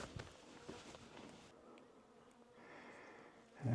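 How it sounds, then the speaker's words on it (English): Faint, steady buzzing of bees at an abandoned RV homestead in a dry off-road area with patches of grass, a soft drone behind light outdoor rustling, with a louder close thump at the end. "Bees! You can hear the bees."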